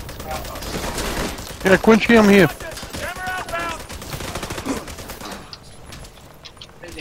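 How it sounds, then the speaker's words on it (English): Gunfire from a sniper turret in The Division 2 rings out in a loud burst of sharp shots, mixed with game effects and overlapping talk from several players during a co-op mission. "Oh, that's a sniper turret."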